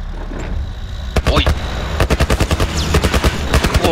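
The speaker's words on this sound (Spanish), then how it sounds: "¡Diablos, dónde están disparando! ¡Hay una especie de torreta militar!" A military turret in The Last of Us rattles off loud, close machine-gun bursts: a short volley, a pause, then longer rapid strings of shots over low rumbling game ambience.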